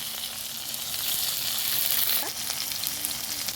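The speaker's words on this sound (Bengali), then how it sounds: "পেঁয়াজটা আমার ভাজা হয়ে গেছে, এবার আমি দেবো টমেটো কুচি" Chopped tomato dropped into oil with fried onions and sugar, sizzling steadily and close up with a brief splashy burst midway, while a quiet voice is faintly present.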